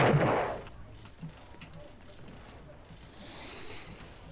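Gunfire in the Roblox game Doomspire Brickbattle: one loud close blast at the start, followed by faint scattered pops and a hissy burst later.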